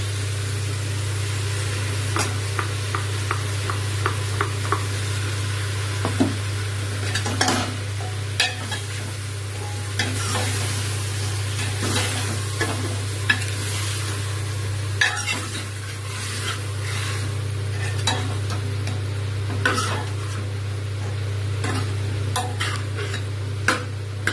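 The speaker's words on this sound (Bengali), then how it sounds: "টমেটো, আদা, রসুন, কাঁচা লঙ্কা, পেঁয়াজ সব পেস্ট এবার দিয়ে দেব।" A paste of tomato, ginger, garlic, green chilli and onion fries and sizzles in a pan. The steady sizzle is broken by frequent scraping and stirring clicks, close and alone with no voices.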